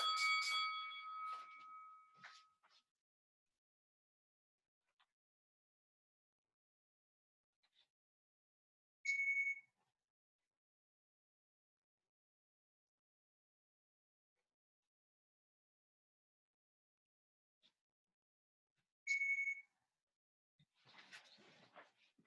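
Electronic beeps from a workout interval timer, a short burst of tones at the start, then two isolated sharp beeps about ten seconds apart in near silence, with faint movement noise at the end.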